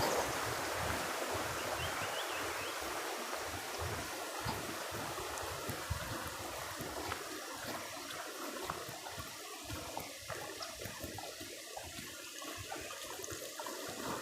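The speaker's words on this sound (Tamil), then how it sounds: "ரோட்லேயே தண்ணி போகுது" Steady rushing of rainwater flowing across a road in elephant-inhabited forest, a continuous broadband wash with small splashy variations, fairly close and uninterrupted.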